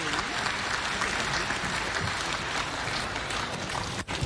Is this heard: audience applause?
yes